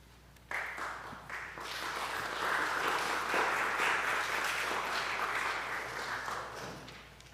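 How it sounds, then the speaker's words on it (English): Applause from the crowd at a public hearing on an energy plan, a sustained wash of clapping that swells quickly and holds steady for several seconds before easing slightly, moderately distant and alone. "applause is a little unusual in the hearing"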